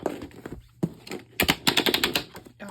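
Scissors cutting the hanging attachment off a 2022 paper planner: a run of crisp, rapid snipping clicks close by, grouped in a quick burst in the middle, with no one talking.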